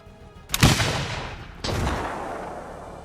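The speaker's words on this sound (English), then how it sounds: "They're shooting cannons." Two loud cannon blasts from a pirate battle in the video game Ark, each a sharp boom followed by a long rumbling decay, the second arriving about a second after the first, with no talk over them.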